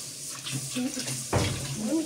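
Tap water runs and splashes while rice is rinsed for cooking in a home kitchen, with short gushes and a louder surge midway, close up and intermittent.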